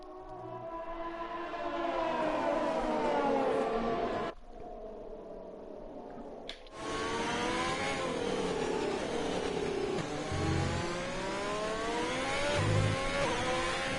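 A race car engine in a racing game revs hard and winds up through rising pitches with rear wheelspin, a loud continuous whine that briefly cuts out and then returns.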